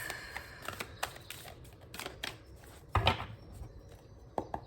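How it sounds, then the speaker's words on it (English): Knuckles rapping on a large, stiff tarot card deck indoors, giving a loose series of soft, close taps with one firmer cluster of knocks partway through, with no talking. "I felt the need to knock my deck"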